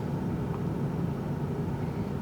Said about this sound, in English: See more cars moving.